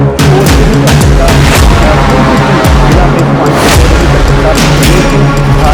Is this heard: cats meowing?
no